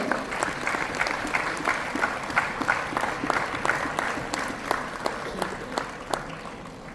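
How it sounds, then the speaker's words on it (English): A crowd claps steadily and continuously for several seconds, a dense, even patter of many hands with no voices standing out. "Ladies and gentlemen, huge round of applause."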